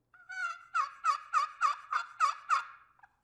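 A hen turkey yelping from a waterproof turkey call, about eight sharp, evenly spaced yelps in a quick rising-falling series, clear and alone.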